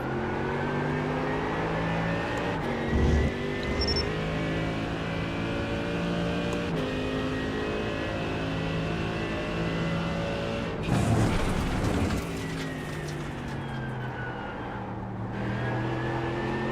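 A race car engine in iRacing at Silverstone climbs through the revs with steady harmonic whine, a few brief shift breaks and bursts of louder roar, continuous and close with no talk.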